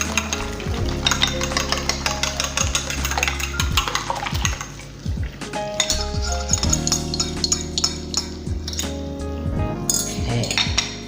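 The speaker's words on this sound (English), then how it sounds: "you want to make sure that your eggs are beat up really well for this" Eggs beaten in a bowl for Spam fried rice, with a utensil clinking and scraping rapidly in irregular bursts, close and fairly loud, with some background kitchen hum.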